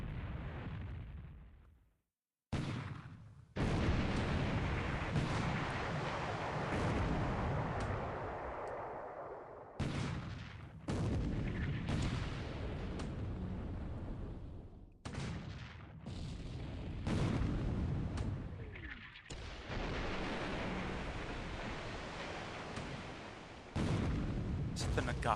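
Naval guns fire in a Pacific war strategy game, including Prince of Wales battleship guns, a run of heavy booming blasts with rumbling tails, loud and repeated every few seconds, with voices talking over them.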